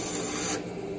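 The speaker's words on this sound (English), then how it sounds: "then just round over the corners on the sander" A sander rounds the corners of a small wooden ukulele bridge patch, a loud close whirring grind that cuts off abruptly halfway through, leaving a low hum.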